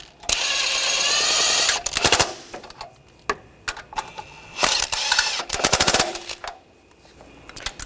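Rapid bursts from an impact or power tool snugging down valve cover bolts on a 2014-2020 Nissan Rogue 2.5L engine, several loud rattling runs of a second or so each, close up, separated by short pauses and small clicks.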